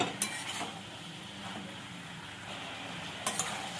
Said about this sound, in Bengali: নুনটা সবজির সঙ্গে মিশিয়ে নেব।